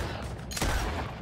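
A single sharp gunshot cracks out in the Western video game Red Dead Redemption II, loud and close, over a busy background of game ambience.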